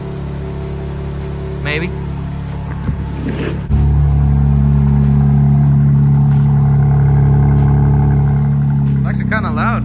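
A car engine revs with its exhaust valves opened, the note jumping to a loud, steady, rumbling drone partway through after a quieter idle, with a voice speaking over it.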